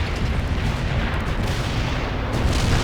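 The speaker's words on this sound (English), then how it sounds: "Call in fire support now!" Artillery fire support explosions in the World in Conflict video game, rendered as a dense, continuous rumble of booms and blasts that holds steady and loud throughout.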